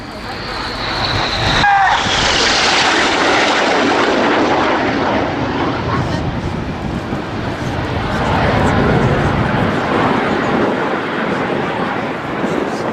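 A Red Arrows display jet roars overhead at high power at RIAT 2016, a broad rushing engine noise that swells and lingers across the whole stretch, with a brief whoosh near the start.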